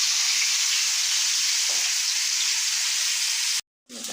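Fish frying in coconut oil on a low flame gives a loud, steady, dense hiss of sizzling close up, then cuts out briefly near the end before the sizzle returns.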